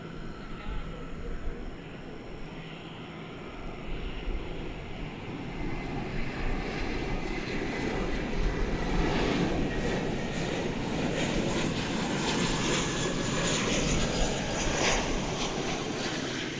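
Aircraft engines roar steadily at DFW Airport during an evening of plane spotting, a broad continuous rumble that swells louder toward the end as jets pass, with faint voices now and then.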